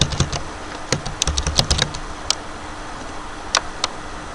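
Password keys tapped on a computer keyboard, a quick cluster of close, crisp clicks in the first two seconds followed by a few isolated keystrokes spaced apart, with no talking.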